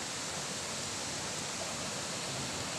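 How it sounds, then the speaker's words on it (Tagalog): Steady roaring rush of water at Dudjungan Falls, a dense, unbroken broadband wash that fills the scene throughout with no voices over it. "Dudjungan Falls."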